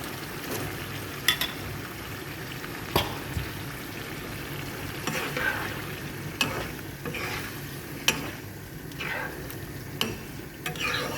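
Chicken saluna with kabuli chickpeas sautéing in a pan gives a steady close sizzle, with repeated scraping stirs and sharp clinks of the utensil against the pan across the stretch, and no voices.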